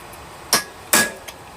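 Two sharp, close metallic strikes of a hammer on a chisel against a railroad spike ring out, followed by a fainter tap, all against quiet shop background.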